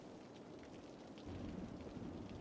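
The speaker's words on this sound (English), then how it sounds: "it's pouring rain" Heavy pouring rain in the city-building game Cities Skylines, a steady broadband hiss with no voices, growing somewhat louder and fuller about halfway through.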